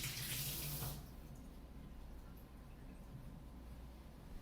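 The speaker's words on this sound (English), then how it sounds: "I'm gonna wash it. Always wash your fruit." Faucet water runs over blueberries in a kitchen sink, a loud splashing stream for about a second that then drops to a quieter, steady trickle.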